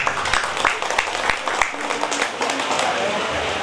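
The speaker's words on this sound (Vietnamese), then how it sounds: "xin quý vị cho một tràng pháo tay" Guests at a wedding ceremony break into a short round of clapping, mixed with a voice speaking over the applause.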